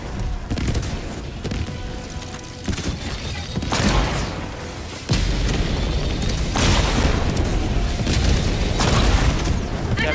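Barrage explosions in the video game Helldivers 2, a run of booming blasts and crackling impacts rolling one after another, dense and loud, with a sharp heavier burst partway through and sustained rumble after.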